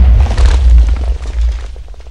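Pirate ship cannon fire in the Super Pirate Battle Royale video game, a deep booming blast with rumbling low roar that fades away over a couple of seconds.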